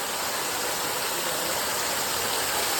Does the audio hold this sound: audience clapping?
no